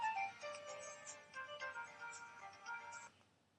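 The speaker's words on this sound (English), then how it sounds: "My phone's ringing." A phone ringtone plays a repeating melodic electronic tune for about three seconds, then cuts off abruptly.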